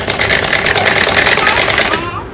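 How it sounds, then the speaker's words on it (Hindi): A sewing machine runs continuously, stitching a child's night suit, with a fast steady mechanical chatter close up that slows and stops at the end. "और इसी तरह पूरे पर सिलाई लगा के"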